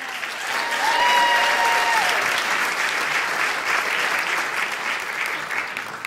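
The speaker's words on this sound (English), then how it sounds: "Round of applause right now for the very funny Alex Grubard." A comedy club audience at The Baby Grand in 2013 applauds a stand-up comedian: dense, steady clapping that swells and then holds, with a few whistles near the start.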